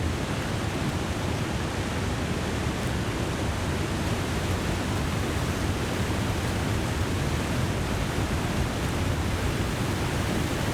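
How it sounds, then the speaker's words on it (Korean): Waterfall in the survival video game The Long Dark, a dense, steady roar of rushing water running unbroken and fairly loud throughout, with no voices over it. "아우 폭포 소리 너무 큰 것 같아."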